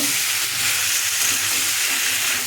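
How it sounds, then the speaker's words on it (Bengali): Garam masala sizzles and fries in a pan with potatoes, pointed gourd and prawns being stirred, a steady loud hiss that runs unbroken and with no voices. "একটু গরম মশলা দিয়ে নাড়াচাড়া করব"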